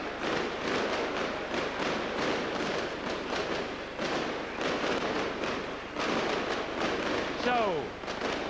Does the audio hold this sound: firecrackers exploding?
yes